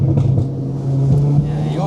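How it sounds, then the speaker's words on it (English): Stage 2 tuned Audi S3 engine heard from inside the cabin, a loud, deep steady drone with a slight rise in pitch, while people talk over it. "your car sounds pissed off"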